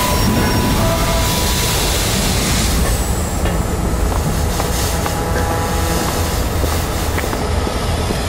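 A train runs on rails, a loud, continuous rolling roar with high-pitched wheel squeals throughout and faint rhythmic clatter underneath, heard close and without voices.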